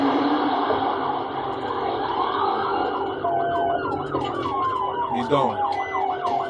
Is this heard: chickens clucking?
no